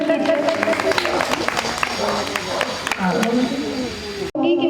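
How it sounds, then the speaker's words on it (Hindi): Applause and clapping from the audience at a women's day gathering of BJP women's wing workers in a Durga temple in Pandav Nagar, dense and steady with crowd chatter and voices over it, then cutting off abruptly near the end. "जोरदार तालियों से इनका स्वागत कीजिए"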